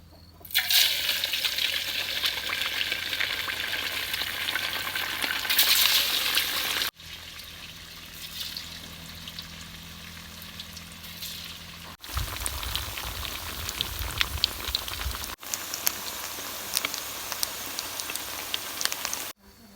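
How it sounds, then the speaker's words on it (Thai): Battered pieces of giant snakehead fish fry in hot oil, a dense, rain-like crackling hiss that is loud and close and runs through several abrupt cuts, with no speech. "แล้วก็ มาคลุกกับแป้งโกกิธรรมดาครับผม แล้วก็ใส่น้ำเย็นนิดหน่อยคลุกให้มันเละๆติดแป้งแบบนี้ครับ จากนั้นก็จะเอาลงทอด"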